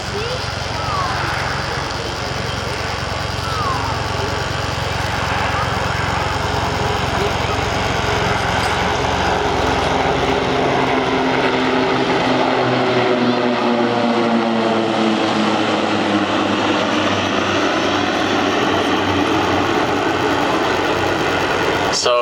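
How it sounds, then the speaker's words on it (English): Nine Swiss Air Force PC-7 propeller aircraft and a Super Puma helicopter fly over at an air show, a loud sustained engine and propeller drone that swells and shifts in pitch as they pass, with a voice speaking over it. "an overflight of 9 propeller-driven aircraft with a Super Puma helicopter"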